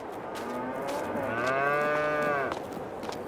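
A single cow in Farming Simulator 22 moos loudly in one long drawn-out call, rising and holding before cutting off, with faint background noise around it.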